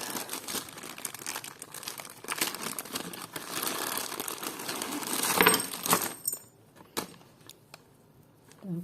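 Paper crinkles and rustles steadily as a parcel of vintage jewelry is opened up close, then a few sharp clicks and light metallic taps before it quiets down.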